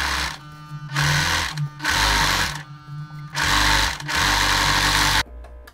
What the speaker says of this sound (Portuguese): Ó, costurei, vou passar aqui o overlock.